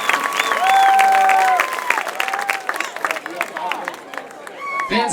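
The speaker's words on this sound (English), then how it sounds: "how about another round of applause for our Spirit of Chapman winners" Crowd of fans applauding and cheering in the stands at a Chapman University homecoming football game against Pomona-Pitzer, steady broad clapping with rising whistles and shouts, fairly loud and sustained.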